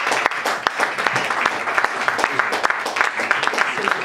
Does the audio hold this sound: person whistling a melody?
no